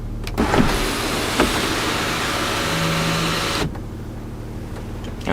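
The electric sunroof on a 2007 Range Rover Sport runs with a steady motor whir for about three seconds, opening with a click at the start and stopping with a clunk, close and clear inside the cabin.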